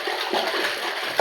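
Water sloshes and swishes inside a tumbler as it is shaken to rinse it, a short burst of close, splashy churning with a small splash at the end.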